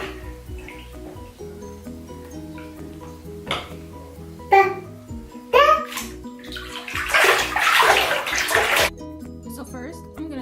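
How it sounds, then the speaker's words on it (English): Water running and splashing in a bath as a baby's hair is wetted, with intermittent pours and drips growing into a fuller rush, under a voice and a child's babbling. "Right now, I'm just wetting Ryan's hair to prepare it for products"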